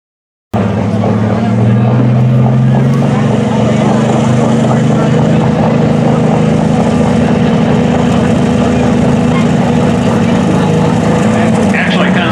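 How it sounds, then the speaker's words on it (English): Big tractor pull engines with large turbochargers at an OSTPA truck and tractor pull in Oak Harbor, Ohio, a loud sustained droning roar with a low steady pitch running the whole clip. "those big engines are running those big turbochargers as they get hot"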